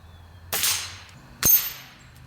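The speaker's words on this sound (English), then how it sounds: "We're shooting a 3-inch target right now." A Gamo Whisper air rifle fires two shots at a 3-inch plinking target. Each is a sharp, close crack followed by a short fading tail, about a second apart with quiet between them.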